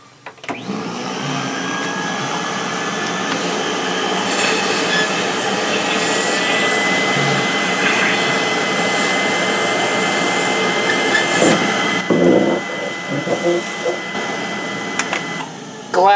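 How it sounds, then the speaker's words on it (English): An electric fan runs steadily in a workshop during repairs on a Peavey SP2, a constant whooshing drone under occasional knocks and handling sounds, loud and close throughout. "I've got an electric fan going and it's a little, yeah, funky"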